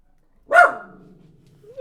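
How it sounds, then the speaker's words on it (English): A dog gives a single sharp bark up close, which trails off into a low ringing tail and then near silence. "Oh, the dog barks at me."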